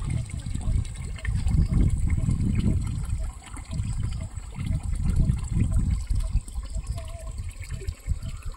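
Water trickles and gushes at a remote village water source in the hills, a steady close splashing flow with uneven surges throughout, no voices.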